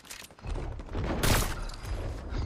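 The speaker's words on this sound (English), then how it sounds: "I just shot somebody" A short volley of video game gunshots rattles out fast and fairly close. It peaks in a dense burst near the middle, then trails into lighter, rough crackles.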